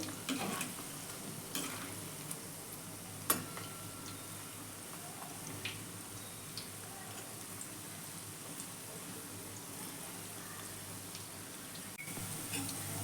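Vegetable Manchurian balls fry quietly in oil in a pan, giving a soft, steady, rain-like sizzle with a few faint clicks. The sound is low in level and close, with no talking.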